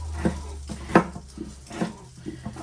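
A knife cutting potatoes on a cutting board for mashed potatoes, a few sharp knocks and scrapes spaced irregularly, close and fairly clear, no speech.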